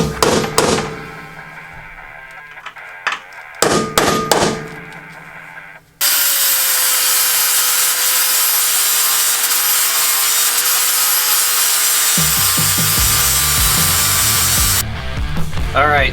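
Harsh, sustained grinding hiss of a flap disc grinding metal flush on a 2016 Toyota Tacoma runs for several seconds, preceded by scattered clanks and followed by tool noise.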